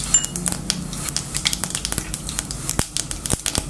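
Mustard seeds and cumin seeds crackle in hot oil in a pan, a dense run of sharp pops and spits spread irregularly over a soft sizzling bed, close and fairly loud.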